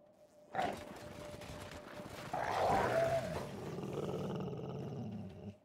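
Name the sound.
dog growling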